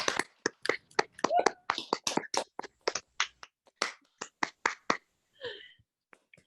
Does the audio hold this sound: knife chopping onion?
no